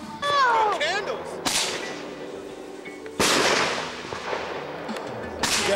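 Roman candle fireworks burst in three sharp, loud explosions spaced a second or two apart, each trailing off into crackle; whistling tones and people's voices come before the first blast.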